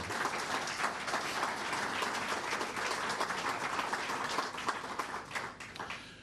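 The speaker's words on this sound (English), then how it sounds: "Please give our panelists a round of applause for being here." An audience at a health care panel event gives a steady round of applause for the panelists, with dense clapping that stays close and full throughout before easing slightly at the end.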